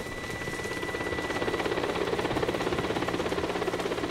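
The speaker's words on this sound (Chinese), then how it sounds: "直升飞机到了。" A helicopter arriving at a high riverside site, its rotor a steady pulsing thrum growing slightly louder and closer, with no voices.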